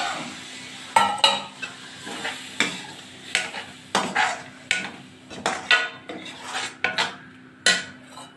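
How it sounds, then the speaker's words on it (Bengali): Masala fries in oil in a pan for a Bengali egg curry while a spoon scrapes and stirs it, giving a steady sizzle broken by rhythmic metallic knocks against the pan, close and with no talk. "এখন আমি অল্প জল এড করে দিচ্ছি"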